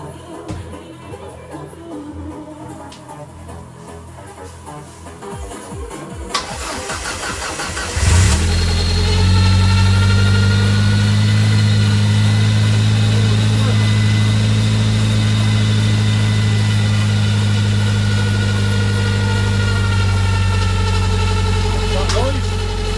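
A Ford Escort Cosworth engine cranks briefly, catches and settles into a loud, steady idle close by, with a voice speaking over the running engine.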